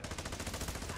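Rapid bursts of automatic gunfire from enemies in the video game Call of Duty DMZ, a dense continuous rattle of closely spaced shots at moderate distance, with no talk.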